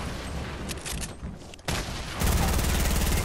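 Shotgun fire in the video game Fortnite: a busy burst of gunfire followed by a louder, dense rapid volley of shots, with no talk.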